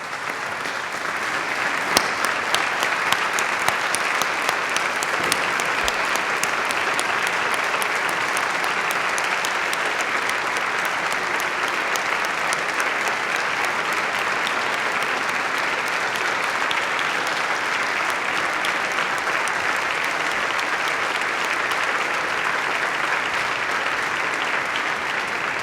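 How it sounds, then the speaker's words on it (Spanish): Sustained applause from a standing audience at an address by Argentine president Alberto Fernández, a dense, even wash of clapping that holds steady for the whole length. "les pido por favor que nos pongamos de pie y brindemos un sostenido aplauso"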